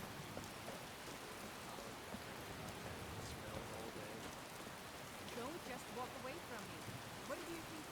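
Steady rain falling in a snowy, chilly Skyrim-style game world near Winterhold, a dense even hiss throughout with faint chirps and scattered patter on top.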